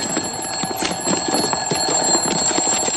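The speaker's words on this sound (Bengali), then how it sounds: "অ্যালার্ম তো আমার এখানে বাজতেছে।" An alarm clock rings continuously and insistently with rapid metallic jangling, fairly loud and steady for the whole stretch with no voices over it.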